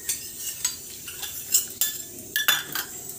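A utensil clinks against a bowl while water is mixed into rava dosa batter, light irregular taps and scrapes at close range with no voices.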